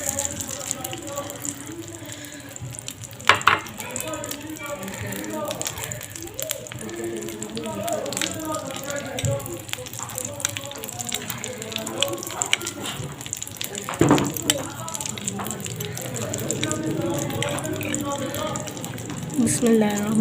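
White chana cutlets coated in egg fry in a pan, giving a steady, dense hiss with scattered crackles and occasional clatter throughout, while someone talks over the cooking.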